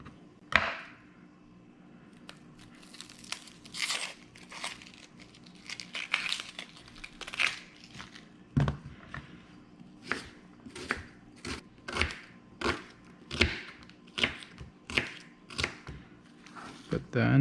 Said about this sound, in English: And then we're gonna cut our onions.